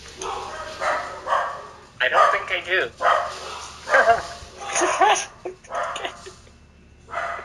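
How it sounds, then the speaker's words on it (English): Dogs barking and yipping in short bursts at home, several excited barks and whimpers overlapping with a person talking close by. "Where are my dogs at? You want to see my puppies?"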